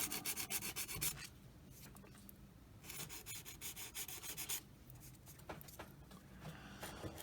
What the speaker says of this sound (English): Sand that down, make sure it's nice and smooth.